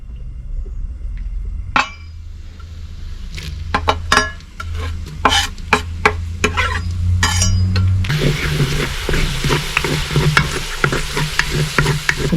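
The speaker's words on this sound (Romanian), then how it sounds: "Urmează să punem la călit ceapa acum." Clinks and handling noises in a kitchen give way to a sudden loud, continuous sizzle as chopped onion hits hot oil in a pan, with stirring scrapes layered through the frying.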